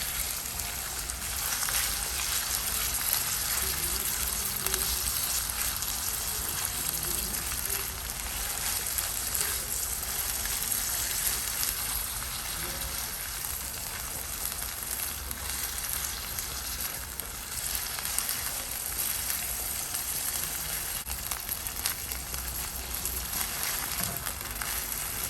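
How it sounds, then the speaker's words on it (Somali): Minced meat frying in a pan with onions and carrots, giving a steady, close, continuous sizzle with light crackle that runs unbroken throughout. "hadda waxaan ku darsanayaa hilib shiishiid waay hilib shiishiidkaasete ayaan ku darayaa kadibna waan isku sii karinayaa basashii karootada hilib"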